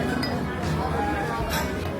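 Glasses clink together in a toast at a restaurant table, bright brief chinks rising over a busy room with steady chatter and talk around them.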